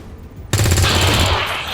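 A sudden loud burst of automatic fire from a soldier's weapon in XCOM: Long War of the Chosen, starting abruptly and sustaining with rapid rattling pulses for about a second before fading.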